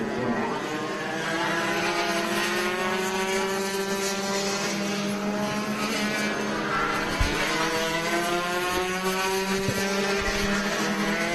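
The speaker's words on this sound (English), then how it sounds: "Now coming on the main straight, looks like Joe Zahavi and Luis Zurbagan get" Rotax racing karts roar down the main straight of a kart race in a continuous, steady engine drone with shifting pitch as they pass, heard from trackside with no talking.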